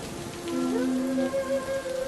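Steady rain patters on a roof of taro leaves tied onto a wooden frame, a dense even hiss of drops, with a faint tonal music line running underneath.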